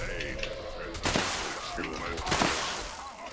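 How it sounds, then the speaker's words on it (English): An explosive shotgun fires in the video game Fallout 76, two sharp bursts about a second apart that ring out over a muffled background, with someone talking around the shots. "Let's pop over to an explosive shotgun."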